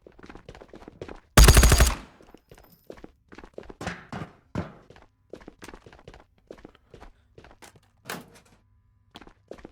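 A Thompson SMG fires a short, loud, rapid burst in the game Ghosts of Tabor, followed by scattered quieter thuds and footsteps.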